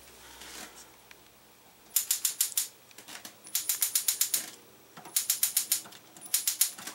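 Electric push-button igniter on an RV gas stove, clicking in four quick bursts of rapid, evenly spaced sharp ticks, close and fairly loud, with brief pauses between bursts and no speech.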